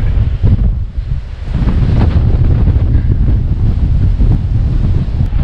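Strong wind buffets the microphone in loud, continuous low rumbling gusts near a cliff edge on Turkey's Turquoise Coast, briefly easing before roaring back.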